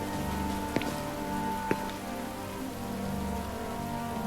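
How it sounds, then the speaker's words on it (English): Steady rain falls in Final Fantasy XV, a dense even hiss of drops on surfaces lasting throughout, with two brief sharper taps breaking through and a low ambient hum underneath; no one speaks. "Always raining."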